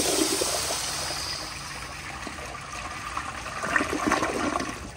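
A 1978 Kohler Wellworth Waterguard toilet on a flushometer valve flushes at the 1.6 setting, a steady close rush of water that swells slightly toward the end.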